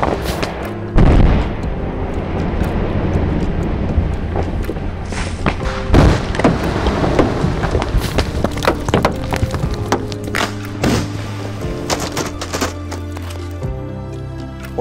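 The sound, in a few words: explosive charges detonated to break up rockslide rocks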